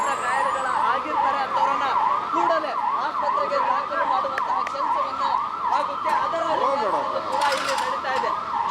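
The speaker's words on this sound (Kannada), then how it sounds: "ರಿಟರ್ನ್ ಬರುವಾಗ ಈ ಆಂಬುಲೆನ್ಸ್ ಕೂಡ ಬಂದಿದೆ" An ambulance siren wails in a steady, rapidly repeating up-and-down pattern over traffic noise, loud and continuous throughout, at an emergency scene with fire crews present.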